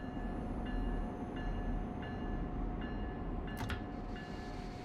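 Train in Train Sim World 4 on the New York to Trenton route, a steady rumbling cab drone with a constant tone and regular clicking beeps roughly every second, plus a brief sharp burst partway through.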